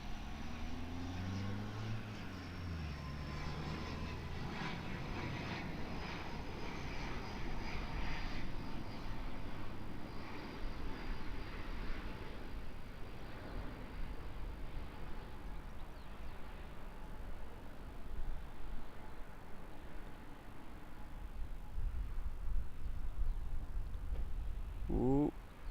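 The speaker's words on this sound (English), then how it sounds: "we've got an ATR 72 on a short final" ATR 72 turboprop airliner on short final and landing at Auckland Airport, a steady propeller and engine drone heard from a distance, holding at a moderate level throughout.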